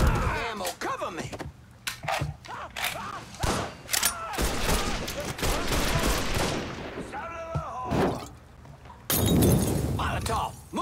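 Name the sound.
Molotov cocktail shattering amid gunfire in video game Mafia III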